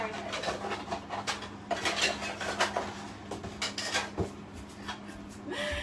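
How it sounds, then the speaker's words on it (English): Plastic bath bomb molds rattle among dishes in a busy kitchen clean-up. Repeated clinks and clatters of dishware and utensils come at close range, with irregular knocks over a low background hum. "Can hear all the molds in the background rattling around."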